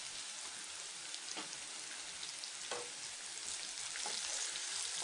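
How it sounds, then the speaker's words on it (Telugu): Onions, green chilies and turmeric fry in a pan with a steady, close sizzle and crackle, with occasional louder pops throughout. "కొంచెం పసుపు కూడా వేసుకుని బాగా వేయించుకోవాలి."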